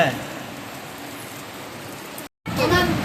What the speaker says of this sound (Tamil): நல்லா மழை பெய்யறதுக்கான அறிகுறியே இல்லைங்க பாருங்களேன் போட்டு பொல பொலன்னு பொழந்துட்டு இருக்கு